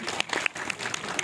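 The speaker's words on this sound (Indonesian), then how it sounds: "Luar biasa, tepuk tangan." A brief round of applause at a film press event, moderately loud with distinct individual claps rising out of the steady patter.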